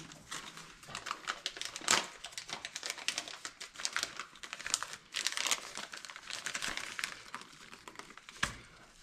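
Crinkling and tearing of plastic packaging as a Traxxas Pro Scale light kit for a TRX-4 Sport is cut open, with irregular close crackles and a couple of sharper snaps, no talking.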